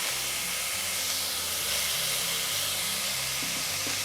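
Onion dropped into hot oil in a pan alongside pork ribs, a constant loud sizzling hiss that fills the whole moment without pause.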